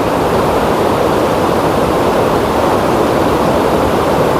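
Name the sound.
flowing water of the Aklan River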